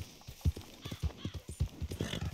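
Horse in the video game Red Dead Redemption 2: steady clip-clop of hooves in a regular rhythm, close and clear, with a faint whinny mixed in behind soft game ambience.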